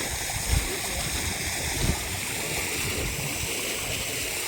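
Water rushes and gurgles steadily along a farm irrigation channel by prawn ponds, close by, with a couple of brief splashy bumps early on and no talking.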